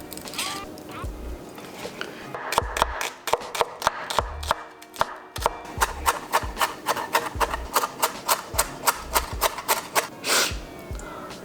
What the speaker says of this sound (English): Thinly cutting our 3 strips of bacon